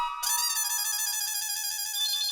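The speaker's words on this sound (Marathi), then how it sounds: "काय होणार? फोन आला." A phone ringtone for an incoming call starts abruptly and plays a bright, steady electronic melody, loud and alone for about two seconds.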